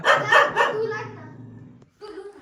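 A dirty, neglected house dog barks a few times at close range in quick succession, then goes quiet before a fainter sound follows.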